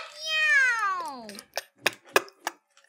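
A cat in a FNAF fan video game gives one long, drawn-out meow that falls in pitch. A few short, separate bursts of sound follow. It is close, clear and fairly quiet.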